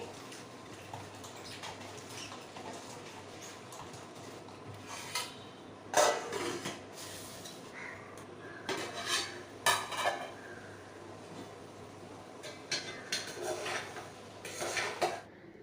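A spoon scrapes and clinks against a pot while vegetables with turmeric and salt get mixed, irregular knocks and rubs standing out over a quiet background.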